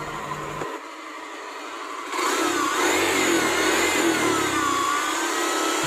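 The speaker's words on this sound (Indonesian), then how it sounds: "kita langsung cek sound saja ya, gimana suara mesinnya" A motor scooter engine runs steadily up close with a faulty mechanical sound, idling roughly at first and then rising to a louder, sustained drone with a high whine through the rest.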